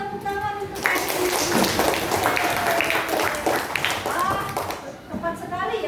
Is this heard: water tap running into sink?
no